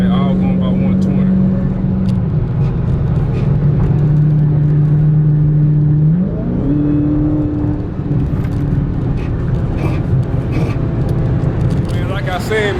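Cars racing past at high speed around 120 near a car meet, with a loud steady engine drone that shifts pitch as they pass and a continuous roar of traffic.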